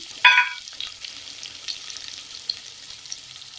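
Onions, green chillies and curry leaves sautéing in a pan for semiya kichadi, a loud splash and crackle as they hit the oil, then a softer ongoing sizzle with a few stirring knocks.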